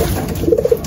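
Pigeons cooing close by in a short burst of low, throaty, rolling calls over a soft background hum, with no talking.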